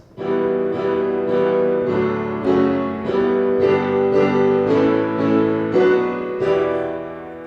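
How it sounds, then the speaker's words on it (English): A choir sings an opening progression of parallel planing chords, the same chord shape sliding in steady stepwise moves, full and close with rhythmic swells, no talking over it. "The opening chord progression sounds like this."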